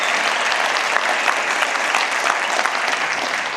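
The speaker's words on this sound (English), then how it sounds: "give him a round of applause" Steady applause from an audience at a motivational talk about a UFC fighter, dense and even clapping throughout with no voices standing out.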